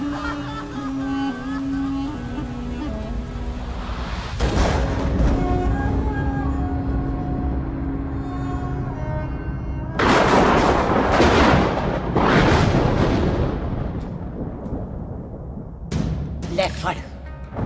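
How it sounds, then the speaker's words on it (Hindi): Gunfire erupts in a dramatic Indian gangster film as a man is shot in the chest, loud bursts of shots over swelling music and voices, hitting hardest in two heavy clusters near the end. "मार दी सारी गोलियां उसकी छाती में"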